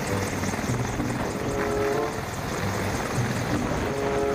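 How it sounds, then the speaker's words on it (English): A helicopter drones loudly and continuously, its rotor throb filling the scene without a break, heard outdoors near an aircraft display area. "Wow, ada helikopter."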